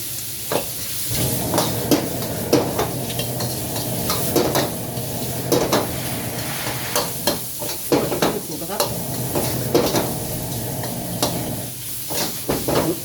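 Bird's eye chilies stir-fried with shrimp in a hot pan, steady sizzling under repeated scraping strokes of a spatula, close and continuous with faint background noise.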